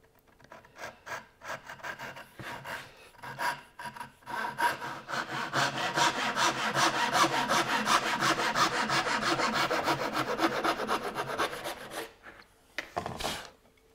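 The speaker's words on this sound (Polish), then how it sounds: "sama piła japońska w rękę." A Japanese hand saw cutting a wooden strip freehand, with a few short starting strokes and then a long run of steady, rhythmic rasping pull strokes, close and clear, ending with a couple of final scrapes.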